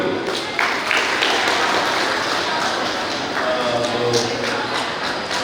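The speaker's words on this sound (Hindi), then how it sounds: "एक बार जोरदार तालियां दोनों के लिए" An audience claps for a couple at their 25th wedding anniversary celebration, a steady, fairly loud wash of applause running the whole time, with a few sharper taps and thuds and faint voices underneath.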